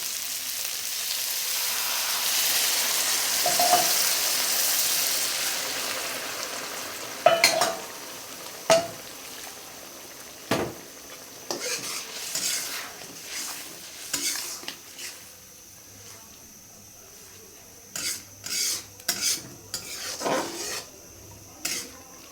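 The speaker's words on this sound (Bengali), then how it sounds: "দিয়ে দেবো সামান্য পরিমাণ গরম জল।" Hot water hits a pan of Bengali prawn curry (chingri machh bhuna) with a loud, broad sizzling hiss that fades. Then a spoon stirs and scrapes the pan in uneven bursts, close up and without voices.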